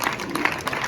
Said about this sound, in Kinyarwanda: reka tubakomere amashyi menshi cyane